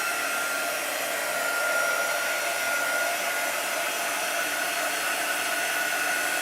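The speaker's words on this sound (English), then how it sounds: "let's go ahead and get our quick dry tool and just slowly" A low-heat quick-dry heat tool blows steadily over chalk paste on a wooden riser, a continuous close, even whoosh with a faint high whine, unbroken and without talk.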